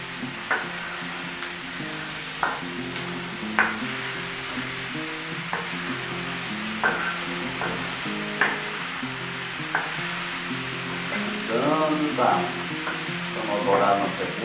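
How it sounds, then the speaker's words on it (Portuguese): Onion and pork browning with garlic on a plow-disc pan, a constant close sizzle punctuated by repeated metallic scrapes and taps of a spatula, with livelier stirring near the end. "Vamos dourar na cebola, carne pastelada."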